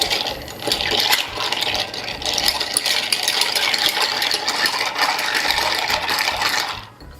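Ice clinking and rattling as a cocktail is stirred in a mixing glass: a steady, close, rapid metallic jingle runs throughout and stops abruptly at the end.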